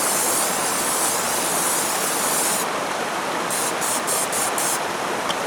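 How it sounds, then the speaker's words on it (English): Cooking spray hisses into a cast iron Dutch oven, one long continuous aerosol spray at close range that breaks into a few short bursts at the end. "Spray with cooking spray."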